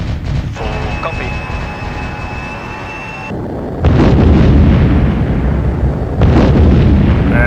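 Bombs explode on an airfield hangar in the EF2000 flight combat game, heavy booming blasts that come in loud, dense bursts over steady jet engine noise.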